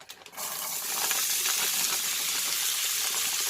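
Chopped onions tipped into a hot frying pan burst into a loud, steady sizzle that holds continuously after a brief clatter at the start.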